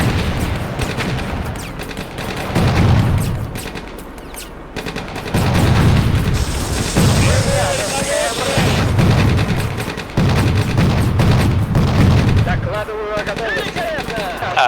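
Repeated tank cannon and gunfire blasts in a tank battle video game, several heavy booms in bursts spaced a few seconds apart over continuous game background noise, with a voice talking at times.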